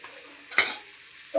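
A spoon stirs jaggery into a mango pickle mixture in a pan, giving one quick scraping swirl with a faint sizzle beneath, followed by a second brief scrape near the end.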